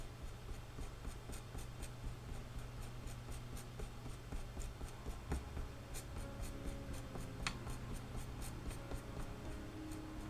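A pen colours steadily on paper, producing a continuous soft scratching and rubbing texture with repeated stroke clicks, close and clear throughout with no talk.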